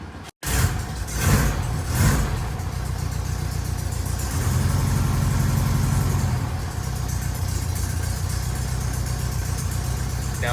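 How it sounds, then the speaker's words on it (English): Cold 1974 VW Beetle engine cranking and catching at 6 degrees outside, then settling into a steady, loud, continuous idle with a brief surge partway through, heard alone with no talk. "so that engine is really cold. It should idle now."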